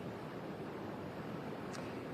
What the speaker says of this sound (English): Wave after wave crashing this community of Brant Rock in Marshfield.